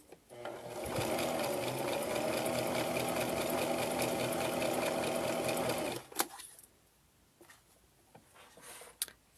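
A sewing machine top stitches a scarf face mask, running in a close, steady mechanical whir for about five seconds before stopping, followed by faint handling noises and a few small clicks.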